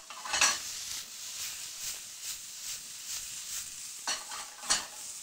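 Tomatoes and onions being tossed in a hot pan, with a continuous soft sizzle broken by rhythmic swishing bursts about every half second and a couple of louder scrapes near the end.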